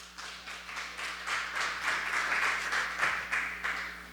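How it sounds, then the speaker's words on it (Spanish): Church congregation claps together in praise, a modest, fairly even round of applause from a room of worshippers with a low steady hum underneath. "El fuerte aplauso al Señor"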